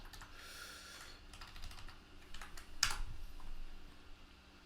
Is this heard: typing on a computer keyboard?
yes